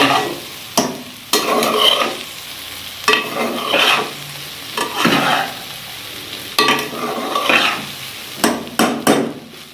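Restaurant-style Chinese fried rice is stirred and tossed in a hot pan: repeated scraping strokes come in steady waves over a constant sizzle, close and loud.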